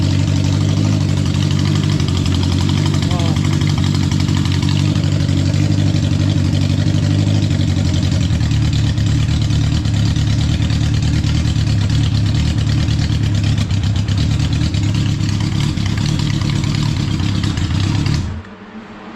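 A 1972 Honda CB500 Four with straight pipes idles steadily and loudly nearby, a deep even rumble with light mechanical clatter that runs for about eighteen seconds before cutting off abruptly.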